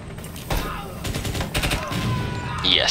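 Gunfire during a tactical room-clearing fight in Door Kickers 2, a cluster of sharp shots in the middle with game noise and a rising electronic tone at the end; a voice is faintly present underneath.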